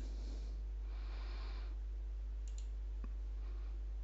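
A single soft click of a computer mouse right-button on a PC, heard once, close and quiet against faint room hiss.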